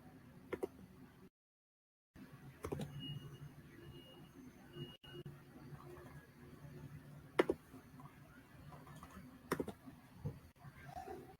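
Keys tapped on a computer keyboard while entering a search for a systematic review, quiet scattered clicks in short irregular bursts with a few sharper taps and a brief silent gap.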